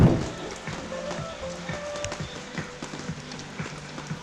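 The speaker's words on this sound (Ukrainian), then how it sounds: "Шуруємо під дощом." Steady patter of rain with scattered drops and splashes, moderately loud and close, along with faint rhythmic footsteps.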